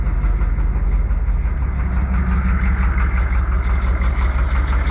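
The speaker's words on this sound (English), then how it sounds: "I'm gonna let it idle because I took it for a drive" A Chevy 6.5 turbo diesel in an M1028 CUCV military dually pickup idles steadily, close and loud, with a constant low rumble and diesel clatter and no talk.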